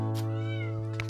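A cat meows at a temple cave site, one drawn-out close meow with harmonic tone, clear and alone.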